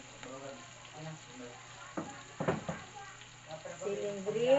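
Onions and green chili fry in a pan with a steady soft sizzle and a few stirring scrapes partway through, while a voice speaks over the cooking.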